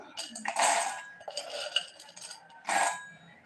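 Peanuts tipped into a metal vessel while making tamarind leaf chutney give a few bright clinking, rattling bursts, close by and fairly loud, with short pauses between pours.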